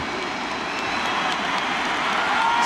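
Stadium crowd at a football match applauding a player, a broad continuous roar of distant clapping and cheering that swells slightly toward the end, with no talk on top.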